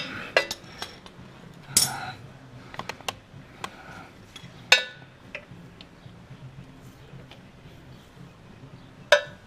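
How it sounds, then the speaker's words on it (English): Metal tools clinking near a 2016 Zongshen CSC RX3 motorcycle as a T-handled socket wrench breaks loose the oil drain plug: sparse sharp clicks and clanks, a few louder metallic knocks, close and alone. "Hold the socket firmly against the plug and break it loose"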